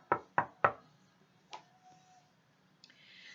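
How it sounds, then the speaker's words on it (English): Three sharp knocks on a front door in quick, even succession, close and crisp in a quiet room, followed after a pause by a single fainter knock and a soft rustle. "knocked on the Fun Crafts front door"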